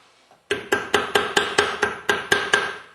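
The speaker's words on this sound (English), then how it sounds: "go back to our hammer and screwdriver and catch it on the lip here and gently give" Steady run of about nine sharp, ringing metal taps from a hammer striking a screwdriver caught on a lip, working a part loose on a Meyer E-60, close and evenly paced after a brief quiet start.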